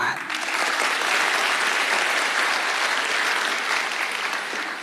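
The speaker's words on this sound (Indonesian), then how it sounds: "Kasih tepuk tangan." A church congregation breaks into loud, dense applause that holds steady for several seconds, with a few voices mixed in.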